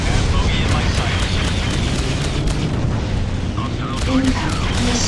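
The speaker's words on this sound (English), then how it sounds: "Impact missile" An impact missile explodes in the space combat game Freelancer, heard as loud rumbling booms and bursts inside a constant roar of battle noise, with a voice speaking over parts of it.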